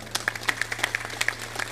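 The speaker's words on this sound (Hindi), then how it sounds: "इनके लिए एक बार ताली बजा दो" Sparse, quiet clapping from a small audience, a few scattered separate claps over a steady low electrical hum.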